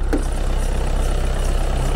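A Volkswagen Passat 2.0 TDI diesel engine idles steadily and close by, a continuous low rumble with a brief knock near the start and no talk.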